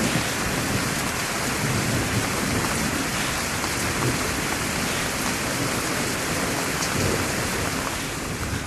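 Heavy rain pours down steadily in a dense, loud, unbroken hiss that fills the whole stretch with no letup, and no one speaks.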